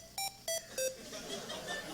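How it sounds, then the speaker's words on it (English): A GlowCap internet-connected pill cap plays its reminder ringtone, three short bright electronic tones spaced evenly, then a softer ringing pattern trailing off over a low room murmur. "the glow cap plays a ringtone"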